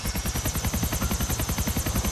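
A helicopter in GTA IV, a steady fast rotor thump pulsing evenly and loudly throughout, close and continuous with no other sound standing out.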